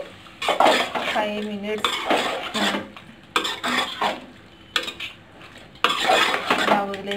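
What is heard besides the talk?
stirring chicken curry with turmeric in a pot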